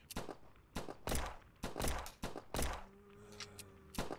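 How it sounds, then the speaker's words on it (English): Several separate gunshots in Outbreak The New Nightmare, spaced at irregular intervals and fairly quiet, each a sharp thumping crack, followed by a brief tonal in-game effect. "Is that a warning shot there, BC?"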